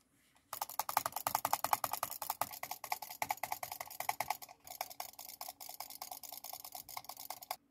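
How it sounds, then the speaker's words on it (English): Rapid butterfly clicking on a Corsair Katar Pro XT gaming mouse produces a dense, fast stream of sharp plastic clicks, close and crisp, continuing for several seconds with brief uneven pauses. "Butterfly click."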